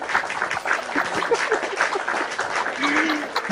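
Hand-clap applause sound effect, a steady ragged wash of many hands clapping at moderate loudness, with a voice briefly underneath.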